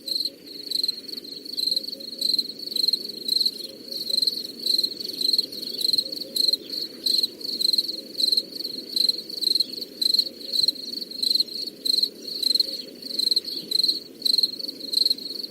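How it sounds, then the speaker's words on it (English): Cricket chirping dropped in as a comedic gag for an awkward silence, a steady, even run of high rhythmic chirps over a soft low hum, continuous and fairly close, with no talking. "But we'll have Steve insert crickets in post for that"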